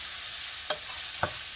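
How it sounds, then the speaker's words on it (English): Onions sweating in a pan for beef stroganoff give a steady, soft sizzle, broken by two brief clinks of a utensil stirring. "So now we're going to sweat our onions."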